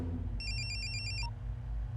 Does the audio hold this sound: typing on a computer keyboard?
no